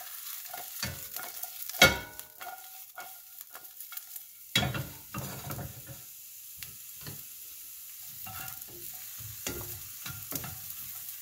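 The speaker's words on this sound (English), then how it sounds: "I just want to saute these right quick" Mushrooms sautéing in a hot pan, a steady soft sizzle broken by several louder scraping stirs, close and alone without any voices.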